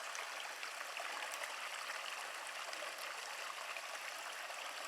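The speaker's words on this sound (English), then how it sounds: "this little creek is flowing a little bit higher than it was the other day" A small creek runs higher after a night of rain, a steady close-up rush and babble of water that never lets up, with no voices over it.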